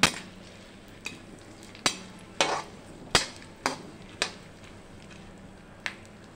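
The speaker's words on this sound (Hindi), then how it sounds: "बस अब इसी घी में हम अपने ये चारों मगज़ यानी ये बीज भी डाल देते हैं और इनको भी हल्के हल्के फ्राई कर लेते हैं।" Four-seed magaz mix frying lightly in hot ghee in a pan, heard as a soft steady sizzle with sharp clicks and taps of a spoon against the pan at irregular intervals, close and alone.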